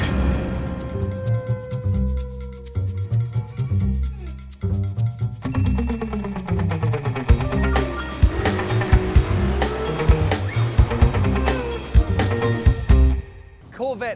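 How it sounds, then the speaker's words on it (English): A 2014 Corvette C7 Stingray driven hard on the Laguna Seca track, its engine roaring and revving through gear changes while tires squeal, loud and close, with a voice talking over it. "I get to drive the new Corvette C7 Stingray"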